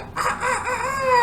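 A rooster crows once, a loud, close, drawn-out cock-a-doodle-doo lasting about a second, standing alone with no other sounds around it.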